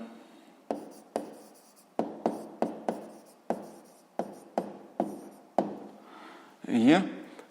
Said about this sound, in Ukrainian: що ж, записуємо відповідь